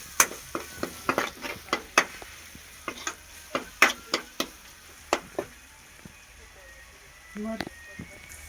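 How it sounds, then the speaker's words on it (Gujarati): A spoon scrapes and taps rhythmically in a pan as Maggi masala is stirred with coriander-cumin powder, a steady run of sharp clinks over a soft sizzle, with a voice speaking in the background. "અને હવે થોડુંક ધાણા જીરું એને આપણે મિક્સ કરી લેવું."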